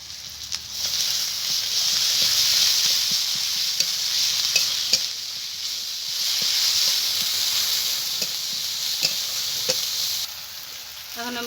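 Ground spice paste sizzles steadily in hot oil while making a bhola fish jhal, with repeated scraping stirs and clicks of a spatula against the pan. The sizzle swells twice and there is no talk.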